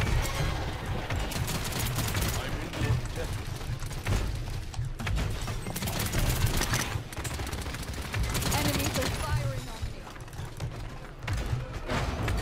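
Continuous gunfire in a Paladins match, dense rattling shots layered over game effects and low rumble, with occasional speech in the mix.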